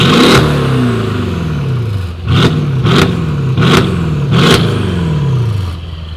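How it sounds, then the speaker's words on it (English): A 700 HP Mercedes-AMG GLE, lowered, revs hard with its exhaust valves open, giving a loud sustained engine roar and a series of about four sharp rev blips whose pitch sweeps down, turbos spooling underneath. "you can definitely hear the turbos now, just spooling."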